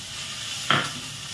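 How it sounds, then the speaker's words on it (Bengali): Green peas tip into hot oil in a frying pan, a sudden loud burst of sizzle that settles back into a steady frying hiss. "এই যে কড়াইশুঁটি এটাও দিয়ে দিচ্ছি"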